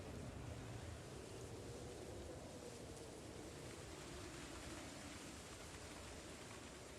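Stormy wind outdoors in a winter survival game rushes steadily with a low, surf-like roar that stays constant and fairly loud throughout, without any talk.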